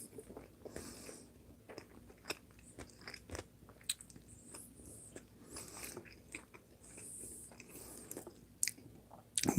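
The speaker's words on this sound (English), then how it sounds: "Oh my god, these ribs are so fucking good." Ribs being bitten and chewed up close, with wet crunching and squishy mouth sounds in an irregular rhythm over a faint room hum, no talking.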